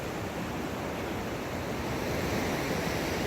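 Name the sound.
ocean waves rolling onto a flat beach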